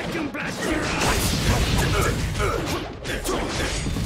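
A wind-style vacuum blast attack in a Naruto fighting game lands as a dense roaring whoosh with crunching impacts, loud and continuous, mixed with game effects and voices.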